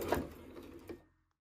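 A home sewing machine stitches a seatbelt cover from fabric scraps, running steadily for about a second with a brief pause mid-seam as it turns a corner, then stopping; close and fairly quiet.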